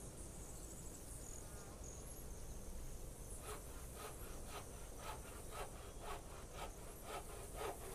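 Rhythmic strokes of someone sawing wood in This Land Is My Land, steady back-and-forth rasps at mid distance, rising in the second half over a continuous buzz of insects and crickets.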